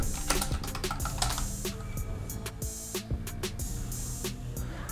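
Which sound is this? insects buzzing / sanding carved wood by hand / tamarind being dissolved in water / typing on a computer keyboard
typing on a computer keyboard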